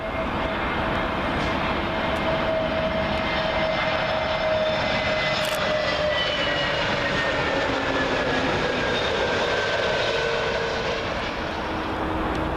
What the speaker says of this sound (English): British Airways A321neo, arriving in from Copenhagen.